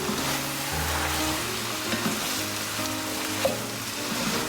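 Ground pork and beef fry in a pan with a steady loud sizzle, while a wooden spatula stirs and scrapes through the meat with faint intermittent knocks.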